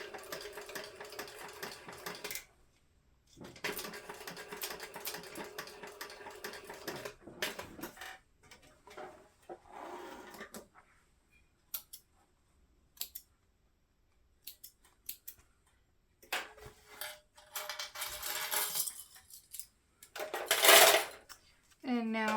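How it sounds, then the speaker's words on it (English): A sewing machine stitching around a fabric crossbody bag, with steady whirring runs of the needle broken by pauses and a sharp snip near the end, and a voice speaking softly between the runs. "And now we've sewn all the way around"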